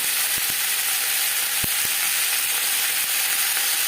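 Capsicum and onions fry in a pan with a steady loud sizzle throughout, while a few sharp taps of a spatula stirring against the pan break through.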